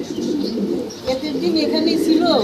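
Pigeons coo softly at a pigeon farm, low throaty calls repeating over a few seconds, mixed with nearby voices in conversation.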